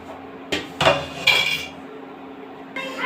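A metal cooking pot clatters and clinks as it is handled in a home kitchen while a dish of taro with snakehead fish is made, giving three sharp knocks close together and a final clank after a brief pause, with no talk.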